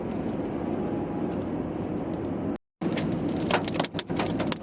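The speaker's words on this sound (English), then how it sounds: "We got hail mixed in with the rain." Hail mixed with rain pelting a car driving toward a mountain pass between Denver and Albuquerque, a dense steady drumming with sharper ice hits toward the end and a brief cut in the middle.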